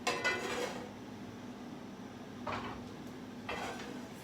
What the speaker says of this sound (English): Bring my frying pan over.